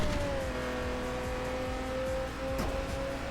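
A Lamborghini Centenario drifts in the Need For Speed No Limits mobile racing game, its engine holding a steady high rev with tire squeal through a short, moderately loud slide.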